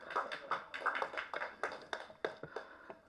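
Applause from an audience at a film press meet welcoming an actor and producer, a run of sharp, moderately close claps for about three seconds with no talking.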